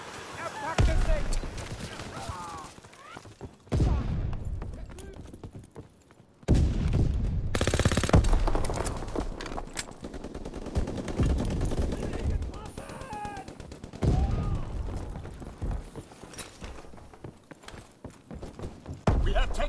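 Bursts of WWII-era gunfire from Call of Duty WWII Team Deathmatch, rapid cracks and sustained automatic volleys at close range, mixed with game voices shouting over the shooting.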